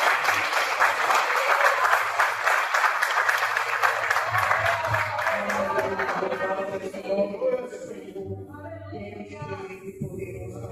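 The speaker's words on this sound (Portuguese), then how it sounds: "Suas palmas são para exaltar o nome do Senhor." Church congregation applauding to exalt the Lord, dense and loud at first, then thinning toward the end as a voice and music-like tones rise beneath the clapping.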